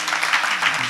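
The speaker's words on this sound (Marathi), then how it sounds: "त्यांच्या स्वागतार्थ सुद्धा आपण टाळ्या वाजवूया जोरदार" Audience applause at a Marathi kirtan welcoming the local MLA: a short, steady burst of crowd clapping, fairly loud and even throughout.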